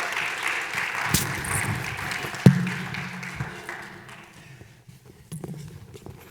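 Audience applause in a meeting room, steady moderate clapping that gradually fades out over several seconds, with one sharp louder clap partway through and a few faint late claps.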